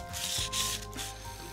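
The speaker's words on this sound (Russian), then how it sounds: "Остатки снимаем наждачной бумагой." Rough, steady scraping of sandpaper rubbing against a metal welding electrode, close by, with a few brief pauses between strokes.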